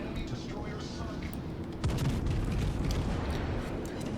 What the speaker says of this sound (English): Lots and lots of guns firing.